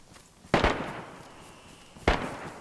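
Two sharp, booming shots ring out in the DayZ survival game, about a second and a half apart, each cracking loudly then decaying into a short echo, with no talking over them.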